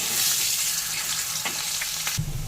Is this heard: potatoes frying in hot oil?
yes